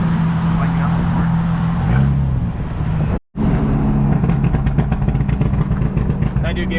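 Engine of a 2000 Imola Audi B5 S4 droning and revving, then a burst of rapid exhaust pops and crackles near the end, with a brief cut midway and people talking over it.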